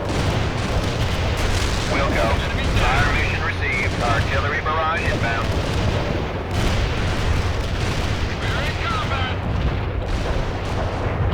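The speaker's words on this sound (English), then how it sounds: "Fire mission received. Artillery barrage inbound." Artillery barrage in the World in Conflict video game: continuous heavy booms and rumbling blasts roll over one another loudly, with radio voices talking over the bombardment.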